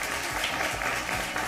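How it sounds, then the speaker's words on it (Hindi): Audience at a televised school quiz show applauds the competing teams, continuous steady clapping with a low hum beneath it. "फिर जोरदार तालियां हो जाए पहले इन टीम्स के लिए"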